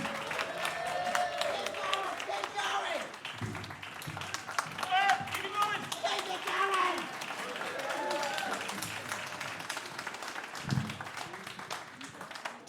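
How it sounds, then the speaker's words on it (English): Comedy club audience at The Comedy Store applauding and cheering as a comedian takes the stage, sustained clapping and whoops mixed with a host's voice talking over the crowd. "Come on, keep the applause going."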